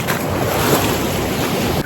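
Sea waves break near the shore at Sanzhiika on the Black Sea in a loud, continuous, broadband wash with heavy wind buffeting the microphone and no talk.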